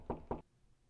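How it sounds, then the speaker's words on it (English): Two quick knocks on a door in The Blackwell Legacy adventure game, close and distinct, followed by quiet. "Should we knock on the neighbor's door?"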